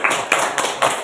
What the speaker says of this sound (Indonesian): Berikan aplaus yang kencang.